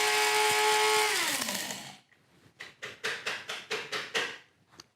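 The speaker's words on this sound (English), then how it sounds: "you can grind bay leaves in a spice grinder too" Electric spice grinder whirring loudly through spices and bay leaves, its motor winding down after about two seconds, then roughly eight rhythmic rattling shakes or taps of the ground contents, close and without talk.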